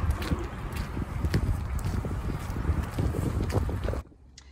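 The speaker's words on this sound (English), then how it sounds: "Very, very windy as well." Steady wind buffets the microphone in a low, rumbling roar for about four seconds, then drops away abruptly to near quiet.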